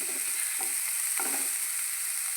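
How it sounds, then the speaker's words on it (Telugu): Vegetables sizzling in a pan for momos, a constant bright frying hiss with a few soft stirring knocks, no talking. "ఇది కొంచెం బాగా వేయించుకోండి. తర్వాత వేగించుకోండి బాగా."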